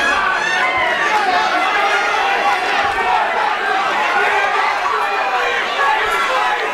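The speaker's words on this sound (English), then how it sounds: "Crowd going berserk early on." A dense, roaring crowd at an MMA event, Platinum Gloves 7, cheering and shouting wildly without letup, loud and close throughout the whole stretch with no single voice standing out.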